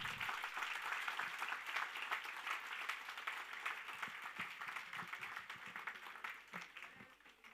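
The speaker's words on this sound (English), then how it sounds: "this is a big round of applause for all of them." An audience at a hackathon grand final applauds in a steady dense round of clapping that holds evenly for several seconds before easing slightly, with no talking.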